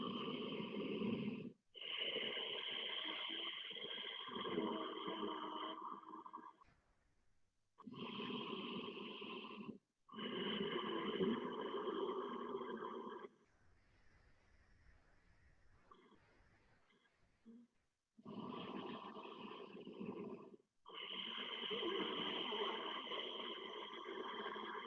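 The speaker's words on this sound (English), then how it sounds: "breathing through the constricted throat, so it sounds a little bit like snoring" Slow Ujjayi breathing through a constricted throat, a rasping, snore-like rush repeating in long, even inhale and exhale cycles with brief quiet gaps between them.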